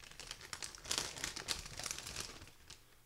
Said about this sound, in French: On va déballer un peu les grappes ensemble